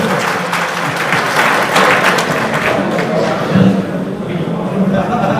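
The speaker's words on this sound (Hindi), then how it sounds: "ताली बजाओ भाई आगे मंडल अध्यक्ष के लिए।" A seated political crowd at a mandal meeting claps for their mandal president, a dense, loud, sustained round of applause with voices mixed in throughout.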